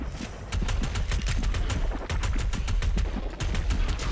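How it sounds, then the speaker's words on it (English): Heavy rifle gunfire in DOOM Eternal: rapid, evenly spaced loud shots in a sustained burst, each a sharp crack over a thick low rumble, with one short break in the stream of fire. "Just pull out your heavy rifle."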